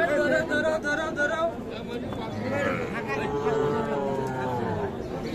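Cattle and calves, including Sahiwal breed animals, at a busy Bangladeshi livestock market, with occasional lowing amid steady crowd chatter and people talking nearby.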